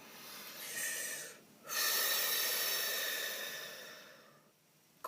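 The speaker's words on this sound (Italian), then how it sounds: "facciamo un bel respiro profondo." A slow, deep breath taken in calmly and let out, a steady airy rush lasting a few seconds with a short pause before it, close and alone without talk.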